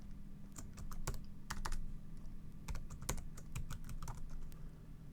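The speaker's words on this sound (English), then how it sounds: "And here, it's going to ask for your name." Fingers type on a computer keyboard during a Ubuntu Linux installation, giving a quick, uneven run of close, crisp key clicks with short pauses between them.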